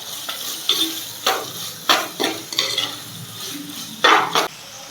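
Sliced onions sautéed and stirred in a pan for a fishermen-style fish curry, a low sizzle punctuated by repeated scraping strokes of a spoon, roughly eight distinct stirs, close by and without speech.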